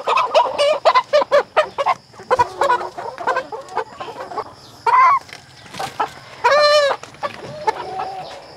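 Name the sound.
chickens clucking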